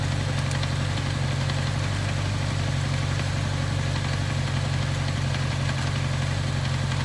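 A 1983 Kawasaki KZ750 Spectre idles after carburetor tuning, a steady low rumbling engine hum with an even, unbroken drone held close throughout.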